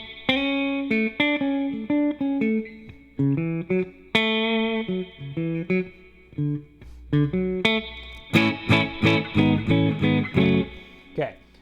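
Guitar strumming the chords of a reggae song in short, clipped quarter-note-triplet chord hits, clear and close, with no talk.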